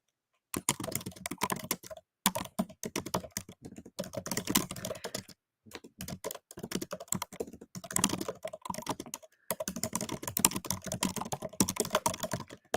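Rapid typing on a computer keyboard, heard close and alone as dense bursts of clicky keystrokes with brief pauses between runs.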